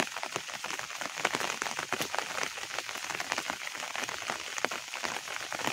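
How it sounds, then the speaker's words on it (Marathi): Heavy rain falling over flooded farm fields: dense, continuous crackling patter of drops hitting water and ground, close and steady throughout, with no talking. "पाणीच पाणी झालंय पावसाने"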